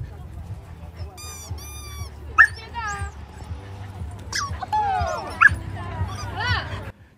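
Several dogs at a newly opened off-leash pet park in Neihu, Taipei give high, wavering yips and whines, nearby and fairly loud, over a steady murmur of people talking in the background.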